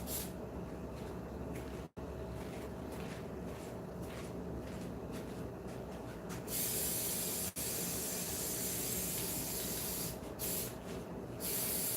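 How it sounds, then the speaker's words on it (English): Truck bed liner coating sprays steadily in a loud, continuous hiss at close range, with brief breaks near two and seven and a half seconds, then short pauses late as the spraying resumes. "This is kind of like a truck bed liner spray, which I could also use on here."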